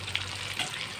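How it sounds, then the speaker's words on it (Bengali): Mutton sizzles steadily in a pan with pre-fried potatoes just added, a short close burst of dense frying hiss with a soft stir. "এবার দিয়েছি ভেজে রাখা আলু।"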